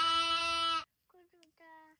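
A lamb bleats on a farm, one loud, drawn-out bleat close by, followed after a short pause by a few quieter, shorter bleating calls.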